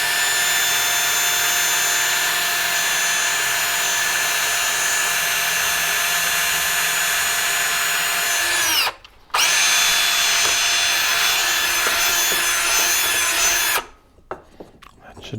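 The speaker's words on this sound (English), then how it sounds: "put it on top of this piece of old wood so I can drill right into it without messing up the workbench" A power drill bores into a piece of old wood on a workbench, a loud continuous high whine held for several seconds, briefly stopping, then running again before winding down.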